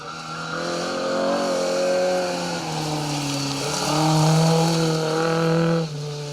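A Hillman Avenger rally car on a forest rally stage sweeps past with a sustained engine note that rises and falls in pitch as it goes by, loud and close for about six seconds before dropping away.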